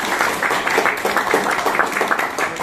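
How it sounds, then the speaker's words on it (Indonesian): A group claps in unison at the closing of a school disaster-preparedness training, with bursts of hand claps repeating in a loose, steady rhythm at moderate volume. "tepuk tangan untuk kita semua"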